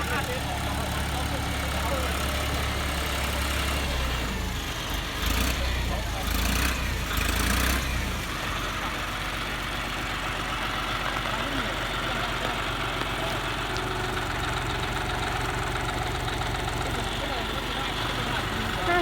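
A 50-horsepower turbo John Deere tractor engine chugs steadily at idle, a low continuous rumble close by, with brief clattering bursts partway through.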